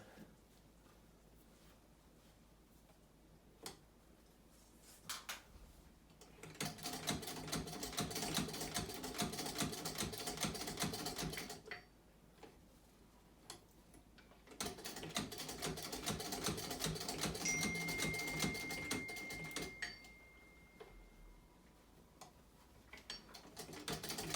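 A vintage sewing machine stitches through eight layers of denim in two long runs of rapid, even mechanical ticking and whirring, separated by quieter pauses with small clicks, close and fairly soft.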